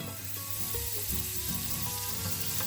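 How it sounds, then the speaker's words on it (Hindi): Butter sizzling in a hot pan for pav bhaji, a dense, steady frying hiss that stays close and fairly loud from start to finish. "पैन गरम हो गया है तो इस पर डालेंगे बटर"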